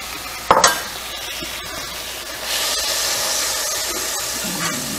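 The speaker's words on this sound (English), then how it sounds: "this is 3 tablespoons of flour that I'm adding to 3 tablespoons of butter" Three tablespoons of flour stirred into three tablespoons of melted butter for spinach and chicken enchiladas, a sharp clink at the start and then a steady close sizzle that swells partway through and holds, with no voices.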